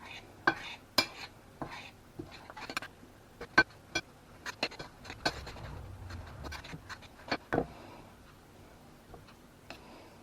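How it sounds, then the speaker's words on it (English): Dough for homemade hot cross buns being mixed together with a knife in a bowl, giving sharp, irregular clicks and scrapes of the blade against the bowl, close and fairly quiet, with no talking. "it says to mix it together with a knife, so we'll do what it says"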